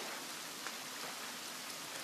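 Steady rain hisses evenly throughout the forest in the survival game The Forest, a continuous broadband wash of drops with no voices.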